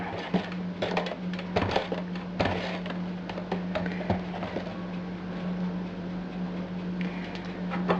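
Irregular clinks and scrapes of a utensil stirring pie batter in a bowl after adding baking soda and vinegar, close and fairly quiet over a steady background hum.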